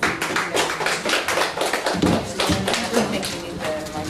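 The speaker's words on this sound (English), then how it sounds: "let's give her a round of applause" An audience at the ACM Diaspora Women Summit claps for a speaker, a dense, loud burst of applause with many overlapping hand claps, while voices are heard under it.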